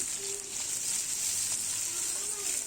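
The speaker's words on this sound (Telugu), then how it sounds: "వేసి దాన్ని కూడా బాగా కలిపి వేగనివ్వాలి" Chopped fenugreek leaves with green chillies sizzle steadily in hot oil in a pan for a cucumber curry, a continuous close hiss with faint stirring.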